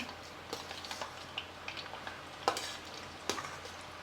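Wheat flour gavvalu shells frying in hot oil, a steady broadband sizzle with occasional sharper crackles and clicks as pieces go in, close and moderately loud with no talking.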